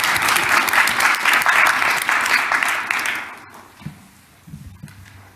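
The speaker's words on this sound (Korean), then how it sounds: "박수 한번 칠까요?" An audience bursts into applause at a national economic growth strategy event, a dense sustained clapping that fades out after about three seconds, leaving a few scattered taps and shuffles in a quiet room.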